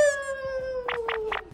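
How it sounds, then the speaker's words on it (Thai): A pet cat meows outside a bedroom door: one drawn-out, falling meow, followed by three quick scratchy bursts, close and fairly loud, with no talking. "เชื่อไหมว่าเดี๋ยวจะมีแมวรอหน้าห้อง"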